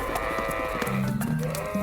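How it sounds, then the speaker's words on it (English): Several sheep bleat over one another, wavering cries overlapping in a short, busy chorus. "Their chatter was soon drowned out by the bleating of a flock of sheep."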